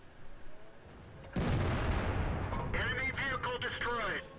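SU-100 tank destroyer cannon firing in World of Tanks, one abrupt heavy boom followed by a sustained rumbling tail, with brief radio-like chatter in the game's mix.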